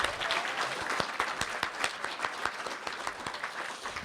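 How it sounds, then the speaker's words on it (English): Audience applause at a college dental hygiene pinning ceremony, a steady wash of many hands clapping with sharp individual claps standing out, moderately distant and continuous for several seconds. "let's give them one more round of applause"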